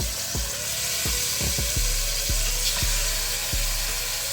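Oil heating in a pan for searing birria meat gives a steady bright hiss, punctuated by a series of sharp popping crackles at irregular intervals, close and fairly loud.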